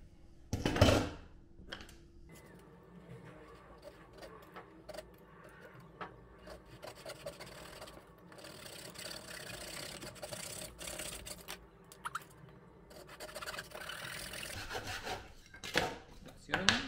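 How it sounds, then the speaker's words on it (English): Steady back-and-forth rasping of a hand saw cutting a diagonal cut through material for a ladder angle, close and continuous, with a brief knock at the start. "Now let me cut this and let's see if this works."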